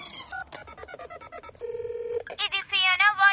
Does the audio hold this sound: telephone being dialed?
yes